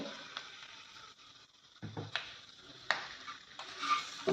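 Okra sautés dry in a pan for dahi bhindi, with quiet scrapes and taps of a spatula stirring it and a faint sizzle between the strokes.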